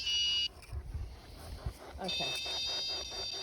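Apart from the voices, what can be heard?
temperature alarm beeping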